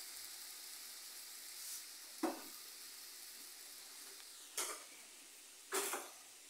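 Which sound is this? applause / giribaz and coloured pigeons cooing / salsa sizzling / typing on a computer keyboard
salsa sizzling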